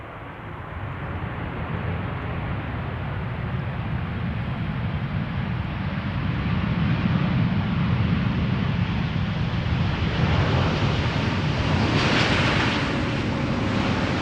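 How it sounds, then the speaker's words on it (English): KLM Boeing 787-10 Dreamliner arriving at Amsterdam Schiphol, a distant low jet rumble that gradually builds louder over about fourteen seconds, mixed with wind buffeting the microphone. "the 787-10 Dreamliner KLM Flight 758 arriving from Panama City"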